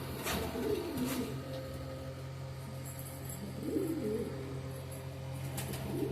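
Male flying pigeons, low flyers among them, coo in a large loft section in Panchagaon near Akola, Maharashtra, with two distinct bursts of rolling coos nearby over a steady low drone and light rustling.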